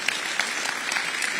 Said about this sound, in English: clap with full energy.